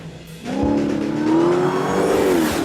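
A Dodge Challenger SRT Hellcat's supercharged 6.2-litre V8 revs up hard after a brief lull, holding a loud, rising and falling bass rumble and roar close by for a couple of seconds.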